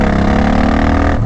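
A Suzuki Boulevard motorcycle engine revs loudly and close, a steady deep throaty drone held at high throttle before easing off at the end.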